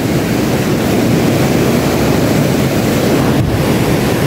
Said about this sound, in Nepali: खोला यहीँनिर आइरहेको छ यहाँनिर